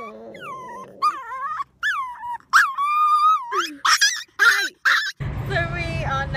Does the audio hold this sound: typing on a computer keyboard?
no